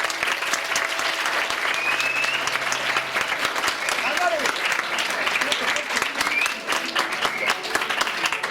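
An audience at a science talk claps steadily for several seconds, dense and sustained applause with no break.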